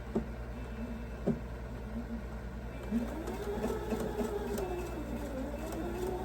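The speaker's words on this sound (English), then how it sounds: "Okay, I'm going to sew corner to corner that way." Sewing machine stitching quilt fabric corner to corner, a steady close motor whir with rapid even needle chatter throughout, faint background noises around it.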